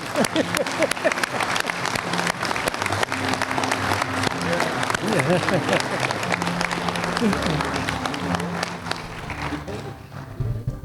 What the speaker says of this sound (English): You may clap at this time.